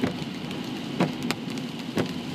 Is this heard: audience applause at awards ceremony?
no